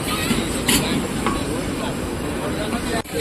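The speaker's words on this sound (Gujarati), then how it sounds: "તે રીંગણા તળી રહ્યા છે તે શાકમાં નાખવા માટે" Continuous sizzling of eggplant slices frying in hot oil, a dense crackling hiss that runs steadily, with faint talk mixed in.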